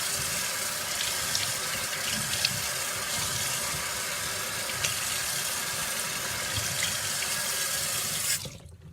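Tap water runs steadily into a sink as someone washes their face and eyelids, a continuous close splashing rush that cuts off abruptly near the end, with no talking.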